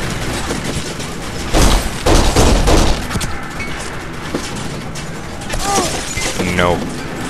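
Bursts of gunfire in the Kane & Lynch: Dead Men video game, loud volleys of shots with booms and mechanical clatter, mixed with speech and other game sounds.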